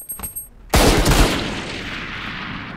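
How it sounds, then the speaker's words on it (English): Full-auto gunfire from a video game, a few soft shots followed by a sudden loud, dense burst that rings out and decays over about two seconds. "Like it doesn't kick much when you just go full auto."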